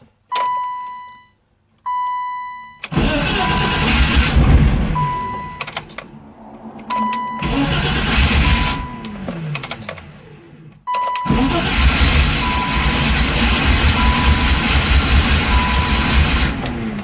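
An old BMW E30 car being started for the first time after a build: chimes and electric whirring, then loud engine cranking and running bursts, near and steady, repeated several times.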